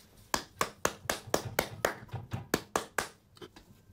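A person claps their hands about fourteen times in a steady, fairly quick rhythm. Each clap is sharp and close, and no other sound competes.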